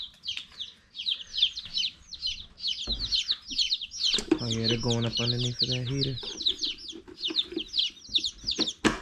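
High, rapid peeping and cheeping from a group of chicks, continuous throughout, with someone talking briefly in the middle.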